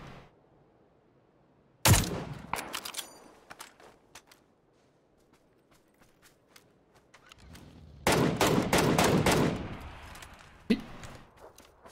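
Bursts of gunfire from the battle royale shooter PUBG, with a sharp shot near two seconds and a loud sustained volley around eight to ten seconds, then a lone shot, separated by quieter stretches with faint movement.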